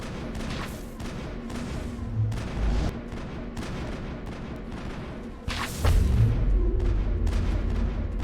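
Gunfire in the video game Mass Effect, fired from a vehicle: scattered booming shots and bursts over a rumbling background, with a heavier blast and sustained roar near the end.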